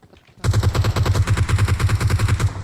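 Rapid automatic gunfire in PUBG Mobile, a loud, steady stream of close shots that begins abruptly and keeps a fast, even rhythm to the end, with no voices.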